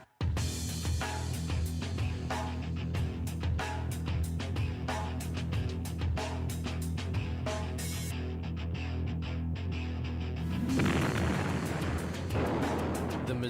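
The World War II battleship USS Missouri bombards the port of Samchok, heavy gun blasts and booms repeating in dense, irregular bursts, loud and continuous with a rumbling roar swelling near the end.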